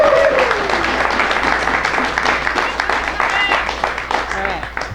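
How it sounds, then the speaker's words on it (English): A small audience at a live event applauds a person just introduced, sustained clapping at moderate loudness, with voices talking and some cheering over it throughout. "Give her a round of applause"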